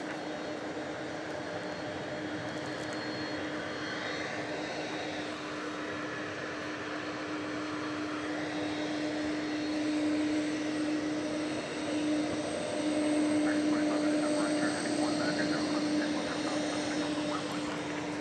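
Jet airliner engines at DFW Airport at night, a steady distant roar and whine that swells slightly toward the end, with broadband airport ambience throughout and no talking.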